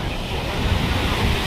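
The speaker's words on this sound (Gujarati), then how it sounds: "જો દરિયો તમે ઘૂંઘવાટા નાખે" Sea waves surge and roar along the shore at Somnath, Gujarat, a loud continuous low rumble mixed with wind buffeting the microphone, heard close and alone.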